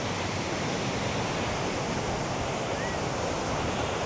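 Steady roar of surf at Karon Beach, Phuket, with constant wind buffeting the microphone, a dense, unbroken wash of noise with no voices.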